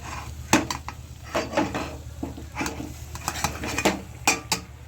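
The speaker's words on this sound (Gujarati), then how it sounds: "હવે આપણે આપણી બચેલી ખીચડી જે છે સાંજની, તેને આપણે મિક્સ કરી દઈશું।" A spoon scrapes and clatters in a pan as leftover khichdi is stirred into spices, giving irregular metallic knocks and scraping strokes at close range with no talking.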